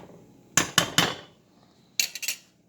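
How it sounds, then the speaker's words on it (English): A spoon stirs a pot of boiling lugaw, a Filipino rice porridge, knocking against the pot in a quick group of three clanks, then a softer group of three after a pause. "So once in a while you want to stir it just a bit."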